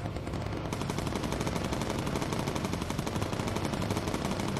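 Aircraft machine gun fire in the Bomber Crew video game, firing as one long, loud, continuous rattling burst with no talk over it.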